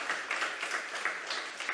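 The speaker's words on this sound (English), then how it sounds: "Please give him a round of applause." Applause from an awards ceremony audience, a steady wash of many hands clapping at moderate distance with no talk over it.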